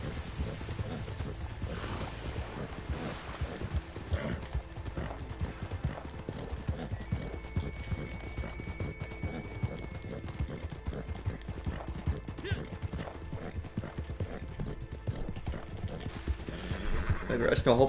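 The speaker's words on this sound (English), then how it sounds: "I'm using the Black Arabian horse." Hooves of a Black Arabian horse gallop steadily through Red Dead Online, a continuous close clip-clop rhythm with occasional whinnies, running the whole stretch while someone talks over it.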